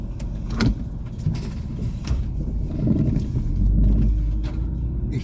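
Traffic in Daytona Beach, Florida ahead of Hurricane Milton: cars rumble past at moderate distance, low swelling whooshes rising and fading, one heavier vehicle building toward the end.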